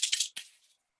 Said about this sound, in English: you combine those three sounds like this